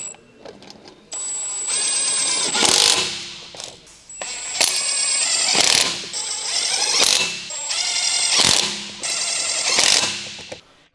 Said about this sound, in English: Use the electric impact wrench with the 22mm deep socket. Snug down the rear wheel lug nuts.